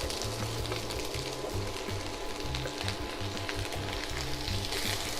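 Ginger, garlic and vegetables sizzle steadily in a little oil in a pan, a dense continuous close frying hiss throughout with no voices.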